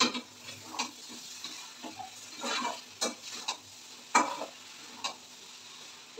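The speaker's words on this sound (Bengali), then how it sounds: "এবার দেখো খুব ভালো করে মিশিয়ে দেবো" Pasta is stirred and mixed in a pan over a soft sizzle, with quiet scraping strokes and occasional light clinks from the utensil, faint and close.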